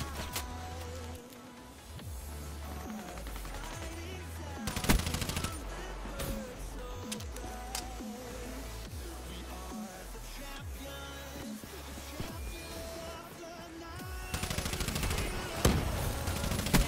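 Rapid automatic gunfire in Call of Duty Black Ops 3 fills the stretch with dense, repeated bursts and sharp louder shots, backed by game music.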